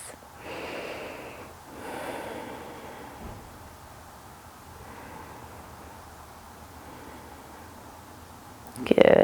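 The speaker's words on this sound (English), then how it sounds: "Taking a few breaths." Deep, slow breathing during a gentle yoga stretch for joint pain, with soft audible inhales and exhales close by and a louder rustle at the end.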